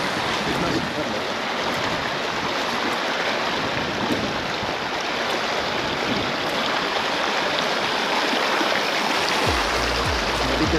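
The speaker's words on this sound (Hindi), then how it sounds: "नदी के साथ साथ चल रहे हैं" A clear mountain river on the trail to Adi Kailash rushes steadily nearby, a constant broadband roar of flowing water that never lets up, with a low thump or handling rumble near the end.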